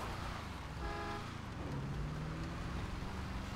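A car drives in the GTA V video game, giving a steady engine and road rumble with a brief horn-like tone, heard close and continuous under game audio.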